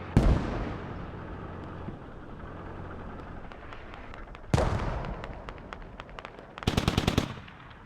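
Mortar and gunfire in the military shooter Squad on the Gorodok map: a sharp blast opens, then a second heavy crack, and a final rapid burst of loud reports under a steady battlefield rumble.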